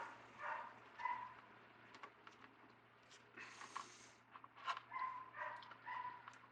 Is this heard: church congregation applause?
no